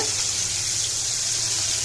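Ginger paste and tomato pieces sizzle steadily in a hot pan for a carp curry made without onion, a close, even frying hiss with no talking.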